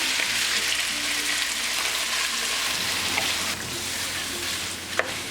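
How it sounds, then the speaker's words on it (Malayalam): Mutton pieces sauté in hot oil with fenugreek, cloves and three dried red chillies for mutton chops masala. A steady, close sizzle hisses throughout, with a brief utensil clink near the end. "ഇതിലേക്ക് എടുത്തു വെച്ചിരിക്കുന്ന മട്ടൺ പീസസ് ചേർത്ത് വഴറ്റി കൊടുക്കാം."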